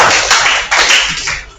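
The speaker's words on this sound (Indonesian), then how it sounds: "Oke, tepuk tangan dulu." Students clap in a classroom, a short dense patter of hands rising and falling in two or three waves over about a second and a half, with no talk over it.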